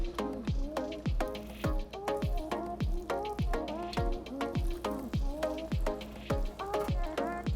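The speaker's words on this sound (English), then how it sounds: "I'm gonna drop this right into my oil. So it fries up." Fry bread dough bubbling in 375-degree oil, a steady loud sizzle broken by regular sharp crackles and pops, close up with no voice.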